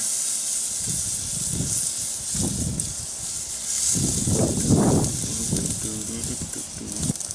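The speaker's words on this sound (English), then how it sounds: "With the egg fired up to around 650 degrees, it's time to sear the steak." Steak searing on a Big Green Egg ceramic grill heated to about 650 degrees, a steady bright hiss and sizzle throughout, with bursts of low handling noise and a louder crackling swell midway.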